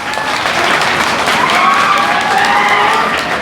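Loud, sustained applause and clapping from a crowd at a joint NC and Congress political gathering in Raipur Satwari, a dense steady roar lasting the whole stretch with faint voices mixed in.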